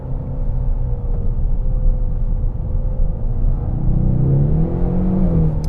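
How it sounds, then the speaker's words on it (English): A 2024 Ford Mustang EcoBoost under way, its engine droning steadily, then revving up with rising pitch as the transmission downshifts, loud and close inside the car. "mid-corner it downshifts when I want to hit the gas"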